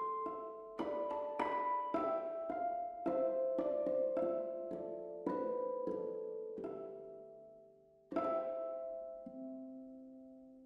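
Vienna Synchron Harp samples play harmonics in ringing mode, bell-like plucked tones left to sustain and decay, in a gentle melodic run and a few spaced notes, soft and alone.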